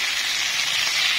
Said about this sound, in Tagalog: Gisahin lang natin saglit.